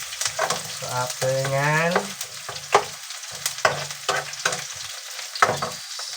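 Garlic frying in a pan for chicken curry sizzles steadily while it is stirred, with a voice talking over the cooking and short scraping strokes scattered through.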